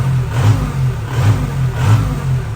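A 1999 Isuzu Panther engine, warmed up, running close by with a low throbbing rumble that swells in repeated revs about every half second, loud and without talk.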